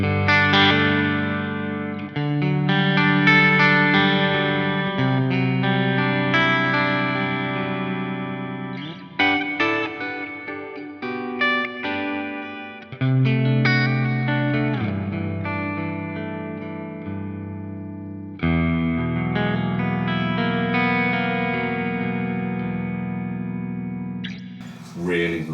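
Electric guitar played through a plate reverb pedal, sustained chords and single notes ringing out with a lush, lingering wash of reverb, phrases separated by brief gaps, no talking.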